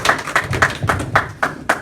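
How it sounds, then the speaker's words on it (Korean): Seven rhythmic, fairly close claps in steady succession from an audience at a lecture, loud individual hand strikes with a slight room echo. "우리 공익숙사들께 큰 박수 부탁드립니다"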